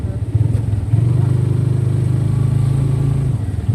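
A motorcycle engine labours at a steady mid-range drone on a rough, bumpy road while carrying students home, loud and close throughout with a brief dip early on.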